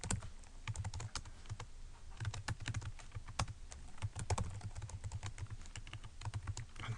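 Steady typing on a computer keyboard, a continuous run of quick, close key clicks with uneven rhythm and no speech.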